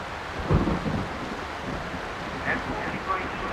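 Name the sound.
thunderstorm with thunder and rain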